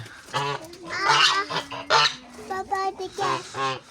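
Geese honk repeatedly in loud, nasal bursts nearby in a village yard, several calls overlapping in quick succession.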